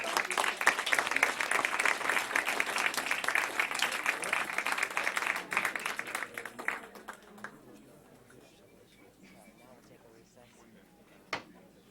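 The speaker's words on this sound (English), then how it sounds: "One more round of applause." An audience at a meeting claps in a dense round of applause that stays loud for several seconds, then thins out and fades to scattered noise with a lone sharp knock near the end; speech is mixed in.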